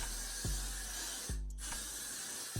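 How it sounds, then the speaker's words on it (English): Several quick hissing sprays from a pump bottle onto braided hair, close by, with short pauses between bursts and no talking. "So I'm just gonna spray that."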